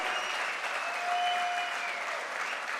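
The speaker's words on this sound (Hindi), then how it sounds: "जोरदार तालियां।" Loud, continuous clapping from a crowd at a promotion celebration fills the whole moment without pause.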